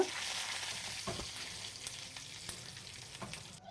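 Dried red chillies and curry leaves frying in hot oil as a tempering for curd rice, giving a steady close sizzle with scattered pops and crackles, faint overall and no talk.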